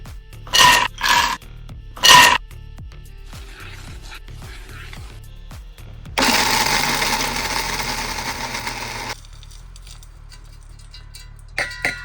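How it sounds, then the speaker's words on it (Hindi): A few clicks and knocks, then a mixer grinder whirs loudly grinding dry fruits, including pistachios, for about three seconds before cutting off, followed by quiet clatter. "इन सबको हम मिक्सी में ग्राइंड करेंगे।"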